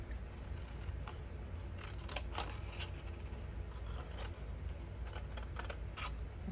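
Scissors snip a notch into a small paper Christmas gift or treat box, a run of close, crisp cuts repeating irregularly over a low steady background hum.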